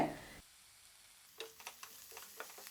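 Chopped green chilies and onion sautéing in a pan for barnyard millet kozhukattai, heard as a quiet frying hiss with faint scattered stirring clicks after a short pause, no talk.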